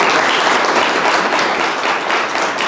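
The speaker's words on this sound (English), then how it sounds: "give a round of applause real quick" A room of attendees at an AI engineering meetup gives a presenter a full, steady round of applause, loud and close throughout.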